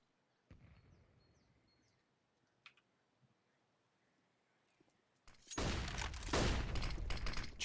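Gunfire in a Counter-Strike match, with a sharp shot near the start and a faint tapping, followed by a louder sustained burst of firing near the end.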